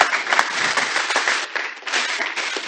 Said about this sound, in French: Une fois de plus, s'il vous plaît, veuillez applaudir fortement.